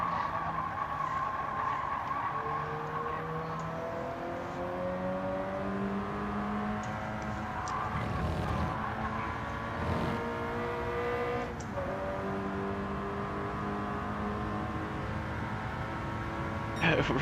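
Several race cars in a close three-car battle in a PlayStation racing game, engines whining and shifting pitch steadily throughout, with brief skid-like bursts, while people talk over the game audio.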